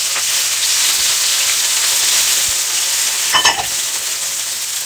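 Spring onion frying in hot lard gives a loud, steady, hissing sizzle that runs without a break, with a brief clatter of stirring partway through and no talking.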